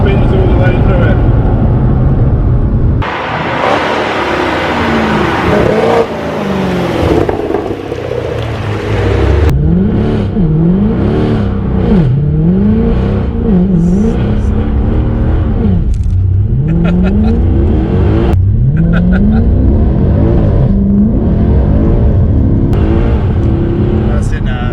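Tuned Mercedes C63 AMG engine revving hard through a rolling burnout, loud and close with rising and falling revs and repeated surges, as people talk and exclaim over it throughout.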